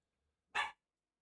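A single short dog bark, one sharp bright burst in otherwise quiet surroundings, heard close and alone.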